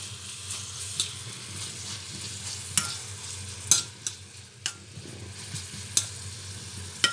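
Spices sizzle in a hot pan while a utensil scrapes and clinks against it several times at irregular intervals; no speech.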